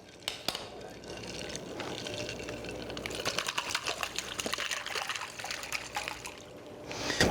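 Brine being poured over pork chops sitting in a bag, a steady liquid trickle and splash with some crinkling of the plastic, fairly close and continuous, with no talk.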